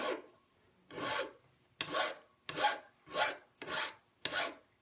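Coarse metal file rasping over a cast metal part held in a vise, taking off mold seams in seven rhythmic strokes with short pauses between, close and clear.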